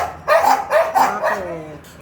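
Several sharp, high-pitched dog barks in quick succession, close and loud, trailing off into a short whine.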